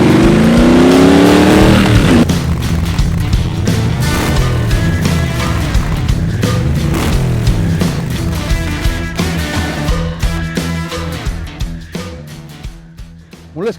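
A Triumph Bobber Bonneville motorcycle engine runs loud and close, a steady revving drone that rises and falls before easing off toward the end.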